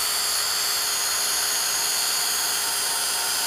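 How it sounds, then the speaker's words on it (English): A heat gun blows hard underneath paper to puff up liquid appliqué, producing a steady, loud, close broadband roar and hiss without a break and with no talking. "you're going to use your heat gun, and you're going to heat it from underneath the paper"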